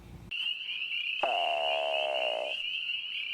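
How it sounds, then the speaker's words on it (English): A long, steady high-pitched toad trill runs unbroken throughout, joined midway by a second buzzy, lower trill that starts abruptly and stops after about a second. "Some of our toads just have really long trills."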